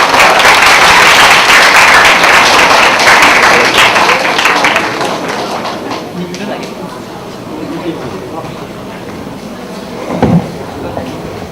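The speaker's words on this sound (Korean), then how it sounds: "박수로 맞아주시기 바랍니다." An audience at an electronics engineering department class event gives a dense round of applause welcoming a speaker, loud at first then thinning out, with a single clap and light talk near the end.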